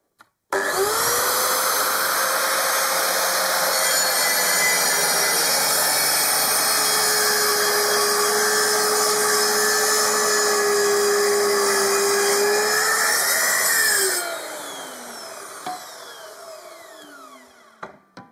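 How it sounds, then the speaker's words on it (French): A Mafell MT 55cc plunge saw crosscuts wood: a loud, close motor whine runs steadily for about thirteen seconds, then winds down, with a few clicks after it stops. "on est en tronçonnage, et on a bien entendu le moteur de la machine"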